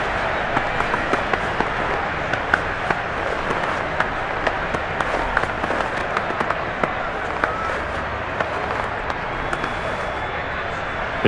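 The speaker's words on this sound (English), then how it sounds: "How about some applause for the defense there?" Stadium crowd applause in Madden NFL 22 after a defensive stop in a Saints vs. Buccaneers game, a steady wash of clapping and cheering that runs throughout with sharp scattered claps.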